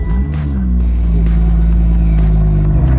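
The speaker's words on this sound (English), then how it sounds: "I think we have an aftermarket exhaust by the sounds of it" A race-prepared car with an aftermarket exhaust revs close by, a deep, loud engine drone with a few short throttle blips on top, and no other sound over it.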